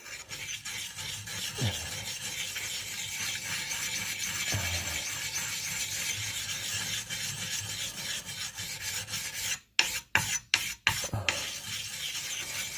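A stone rasps back and forth along the edge of an axe blade in a steady rubbing rhythm, close and moderately loud, broken near the end by a few short gaps between strokes.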